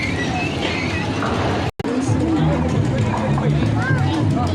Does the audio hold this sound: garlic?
no